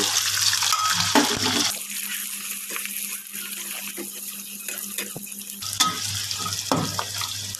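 Fish and shallots sizzle in hot oil in a pan, a steady bright crackling hiss that drops back for a few seconds and then returns at full strength, with no voices.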